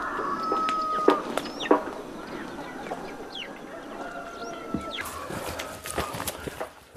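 Chickens cluck and call around a hen coop on a hillside near old tea fields, with scattered sharp clucks and distant crowing over a quiet rural background.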